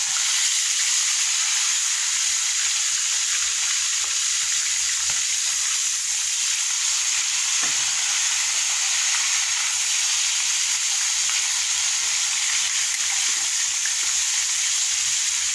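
Pieces of catfish frying in a pan of hot oil, a loud continuous close sizzle and crackle that holds steady throughout with no voices.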